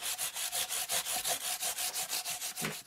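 Rapid, steady back-and-forth sanding strokes on the frets of a Fender Squier Mini guitar, about six per second, close and loud with no voices.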